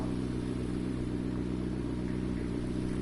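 Porsche 918 Spyder hybrid engine, a steady low rumbling drone held close and loud throughout with little change in pitch.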